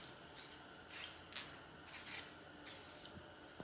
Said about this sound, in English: We're going to put some WD-40 on it